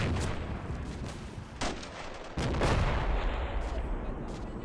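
Explosions and heavy gunfire from a battle video game rumble continuously. Two sharp, loud blasts stand out over the dense, steady combat noise, and nobody speaks.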